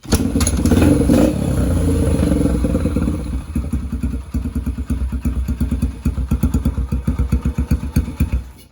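A Yamaha Raptor ATV engine cranks and catches, starting with a loud roar that settles into a rough, uneven idle thumping closely, with pulses surging and sagging as if close to stalling.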